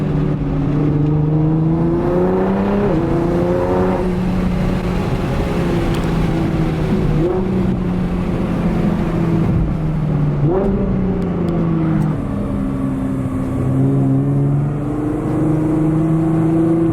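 A Nissan GT-R Nismo with full bolt-on modifications drones loudly and steadily from inside the cabin, its engine pitch climbing and dropping through several shifts.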